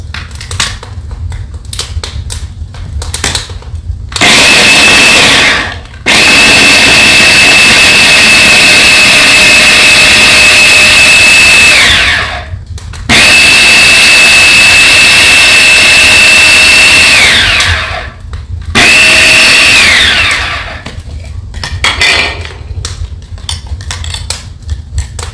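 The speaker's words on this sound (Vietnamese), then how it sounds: "Bây giờ thì Thủy sẽ xay tỏi ra." A blender grinding garlic, loud and close, running in three long bursts with a steady high whine, separated by brief pauses and rattling clatter between runs.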